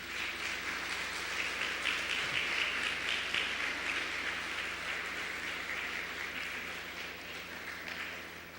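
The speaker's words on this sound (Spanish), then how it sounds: "¿No das un aplauso al Señor?" A church congregation breaks into applause for the Lord during a Spanish-language sermon, a broad, sustained patter of many hands clapping at moderate distance that slowly fades over several seconds.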